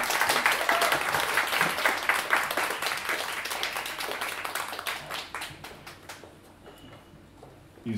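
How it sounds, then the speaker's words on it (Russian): A concert audience applauds a performer with full, rapid clapping that stays loud for several seconds, then thins and fades to near silence before a brief final burst. "Под ваши аплодисменты Влад Гершевич!"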